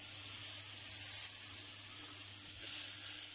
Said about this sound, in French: Et on va venir faire suer légèrement nos échalotes pendant 1 ou 2 minutes